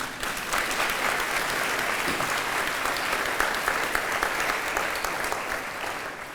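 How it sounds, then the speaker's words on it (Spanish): A church congregation applauds during a Spanish-language service, a sustained, even roar of many hands clapping together that stays steady for several seconds without speech. "Denle un aplauso al Señor."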